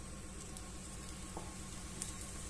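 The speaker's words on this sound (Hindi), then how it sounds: "और फिर हम इसको दूसरी तरफ भी अच्छे से घी लगा के सेक लेते हैं।" Low, steady sizzle of a cauliflower-stuffed paratha roasting in ghee on a hot griddle, a faint continuous crackle with a few tiny pops and no talking.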